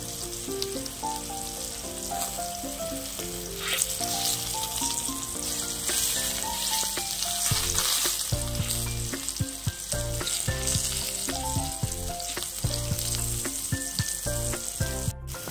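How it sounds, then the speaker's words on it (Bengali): Eggplant slices frying in oil for an Odia-style dish give a continuous, close sizzle under steady melodic background music, with occasional stirring scrapes and no voices. "বেগুনটা ভাজা ভাজা হচ্ছে প্রায়"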